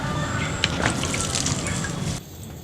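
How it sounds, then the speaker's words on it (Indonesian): Water poured over a freshly covered vegetable seedbed in a small garden plot, a steady splashing pour that stops abruptly near the end, with no talk. "Kemudian kita siram lagi sebentar."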